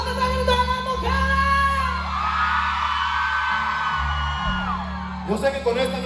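Women in the crowd at a live concert in North Carolina shout and whoop together in a sustained burst over the band's steady low music, while a voice speaks over the noise.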